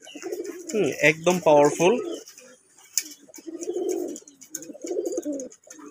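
A male pigeon coos in low, throaty bursts at close range while someone talks over and between the calls.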